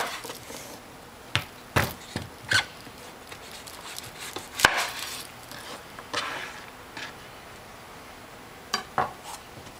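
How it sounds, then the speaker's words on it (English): A knife cuts the stem end off a butternut squash on a board, a handful of sharp, separate chops and knocks spread across a quiet kitchen. Between cuts come fainter taps and scrapes, with no talking. "Actually, we're going to cut the end off first where the stem is."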